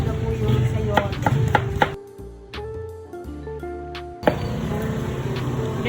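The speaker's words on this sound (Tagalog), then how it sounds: "Carrots naman po ang ini-slice na ni Tito" Tito slices carrots with a knife for pancit habhab, giving a run of sharp, rhythmic chopping taps on a board up close. Steady kitchen noise continues underneath, with a quieter stretch in the middle.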